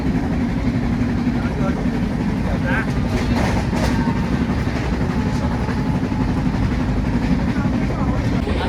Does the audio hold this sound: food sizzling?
no